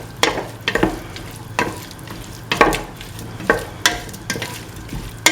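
Tomato pieces and green chillies being stirred into a beef, ash gourd and coconut milk stew in a pan, a series of scraping, clattering spoon strokes about once a second over a soft sizzle.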